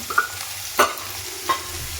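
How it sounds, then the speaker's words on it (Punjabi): Onions being browned in a pan as for a tempering, with a steady sizzle under three distinct scrapes of a spoon stirring them, close and alone. "ਇਹਨਾਂ ਨੂੰ ਚੰਗੀ ਤਰ੍ਹਾਂ ਅਸੀਂ ਭੁੰਨਾਂਗੇ ਜਿੱਦਾਂ ਅਸੀਂ ਆਪਣਾ ਤੜਕਾ ਭੁੰਨਦੇ ਆ ਉਦਾਂ ਅਸੀਂ ਇਹਨਾਂ ਨੂੰ ਭੁੰਨਾਂਗੇ ਚੰਗੇ ਤਰੀਕੇ ਨਾਲ ਜਿਹਦੇ ਨਾਲ ਸਾਡੇ ਪਿਆਜ਼ ਹੋ ਜਾਣ ਬਰਾਊਨ"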